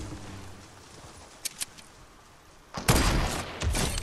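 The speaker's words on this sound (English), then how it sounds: "You shot like 10 times." Gunfire in a video game: two brief sharp shots, then a loud burst of rapid shooting follows near the end, with nobody speaking.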